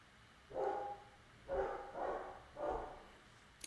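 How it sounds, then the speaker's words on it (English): A dog barks from upstairs in a quiet house, three spaced, muffled barks spread over a few seconds, with no one talking. "The dog's giving an answer from upstairs"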